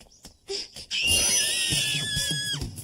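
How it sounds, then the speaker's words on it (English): A high-pitched, drawn-out scream with wavering tones rises after a few short sounds, sustained for about two seconds over some low thumping. "What are you screaming about?"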